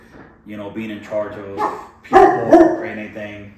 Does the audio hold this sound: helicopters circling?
no